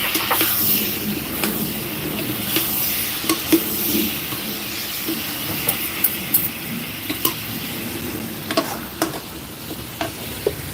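Spicy fish curry with eggplant and basil stir-fried in a pan: a steady sizzle and frying hiss, with frequent clinks and scrapes of a utensil against the pan throughout.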